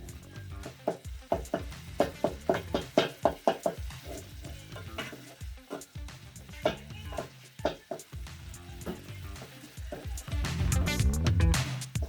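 Tomatoes cooking in a pan for an omena dish, with repeated stirring scrapes and soft sizzling, growing into a louder sizzle toward the end, with a voice talking faintly.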